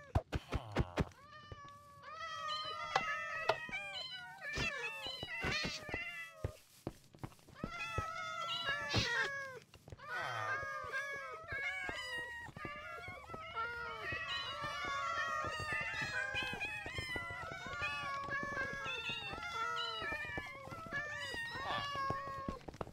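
Many cats meowing in the Minecraft video game, a dense, overlapping chorus of repeated meows and yowls lasting throughout, with no talk.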